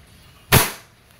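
A WE Hi-Capa airsoft pistol fires a single semi-auto shot, a sharp, close crack with a short decaying tail against quiet background.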